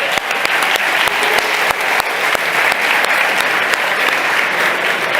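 A crowd at a hackathon closing ceremony applauds for a second-prize award, with dense, sustained clapping from many hands filling the room evenly from start to finish.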